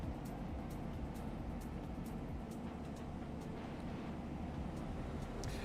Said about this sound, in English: it sounds like it's the XD engine